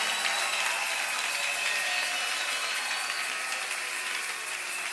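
A church congregation at a Sunday service applauds steadily, dense continuous clapping filling the room from start to finish without letup.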